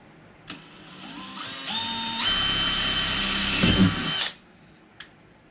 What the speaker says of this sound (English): we punch a little hole